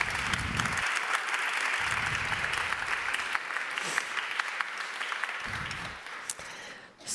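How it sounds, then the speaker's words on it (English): A crowd claps steadily for guests at an opera-house premiere talk, dense applause filling the room at even strength for several seconds before thinning at the end. "So please give my guests some applause."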